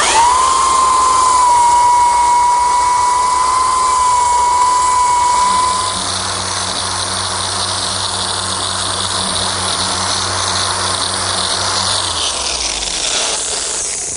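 A belt sander running an 80 grit belt over a wooden butcher block, a loud steady high-pitched motor whine with a hissing abrasive grind, which drops to a lower sustained drone partway through before spinning down at the end.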